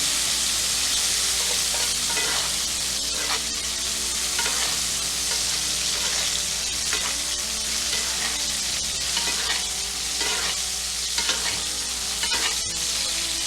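A New York strip steak sears in a pan on low heat while being basted, giving a loud, continuous sizzle and crackle with repeated spoon-scraping strokes throughout, no voices.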